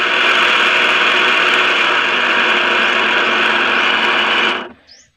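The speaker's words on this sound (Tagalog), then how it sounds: "parang medyo magaralgal yung kanyang andar, malamang yung bearing niya medyo kulang na sa grasa yung bearing ng motor natin" Electric knapsack sprayer motor running at its highest setting with a rough, grating hum from under-greased bearings, a steady loud close drone that cuts off abruptly near the end.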